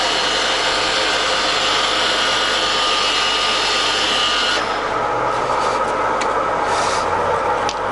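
A Tos SN40C centre lathe's carriage travels on rapid feed with a loud, steady mechanical whine. Partway through the sound drops and changes as the carriage movement shifts, leaving a lower drone with light clunks.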